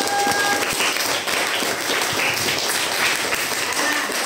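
Children in a fourth-grade classroom applaud a classmate with a loud, dense, continuous patter of many hands close by, holding steady throughout.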